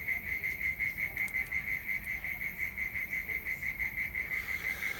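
Crickets chirp at sunset in a steady, pulsing chorus, a continuous high trill with a regular rhythm, joined by faint frog calls in the background.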